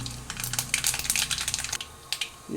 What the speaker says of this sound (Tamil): வானலி அடுப்பில் வச்சு எண்ணெய் ஊற்றியாச்சு கடுகு போடுறோம்